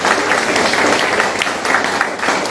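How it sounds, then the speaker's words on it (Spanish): A church congregation applauding during a sermon, a dense, steady wash of many hands clapping at once, loud and close. "Dale un aplauso al Señor, Rey de Reyes"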